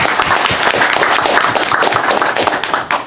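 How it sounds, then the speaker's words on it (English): A city council meeting audience gives a round of applause, close and fairly loud, with individual claps distinct within the steady clapping before it begins to taper at the end. "we want to definitely give you a round of applause and thank you"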